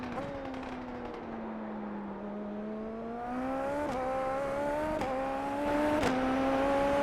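SF23 Toyota Formula 1 car engine in the iRacing sim at Suzuka, a high whining tone that rises and falls through gear changes, with quick shifts and a steady, close, sustained drone.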